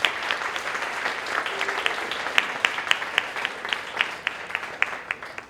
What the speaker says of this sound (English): let's give a round of applause for Tina and the family